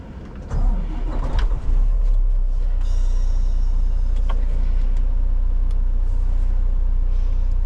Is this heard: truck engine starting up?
yes